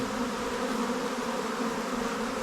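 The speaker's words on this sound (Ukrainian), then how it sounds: "А цей, бачите, який дуже великий рой." A dense, steady buzz of a very large swarm of honeybees close by, continuous and loud with no pauses.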